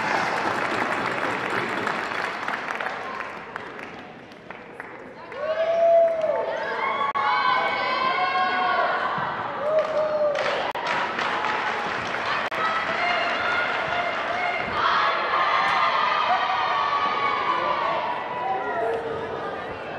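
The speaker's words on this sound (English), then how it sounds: "one more round of applause for your 2018 SNU Volleyball Senior Class" A volleyball crowd gives a round of applause for the 2018 SNU senior class, sustained clapping and cheering with shouts and whoops, an announcer's voice carrying over the arena noise at the start.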